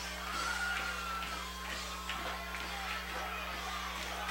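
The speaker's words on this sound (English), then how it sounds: "the Aces crowd on their feet, cheering their Aces on" Home crowd at a high school varsity football game between Hicksville and Tinora, a steady roar of cheering and yelling under a constant low hum, with no clear peaks.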